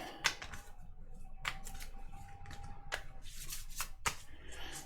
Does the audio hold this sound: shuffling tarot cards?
yes